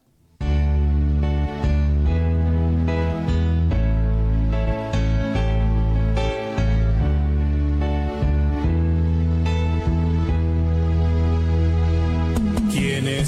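A religious song broadcast on a radio station plays steadily and loudly throughout, with rich sustained harmonic music and no talking over it.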